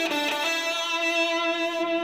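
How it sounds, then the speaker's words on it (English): An electric guitar plays octave tones with a slightly driven, effects-coloured sound. A sustained, ringing note holds steadily close up for about two seconds. "Today we're gonna have a look at guitar octave tones."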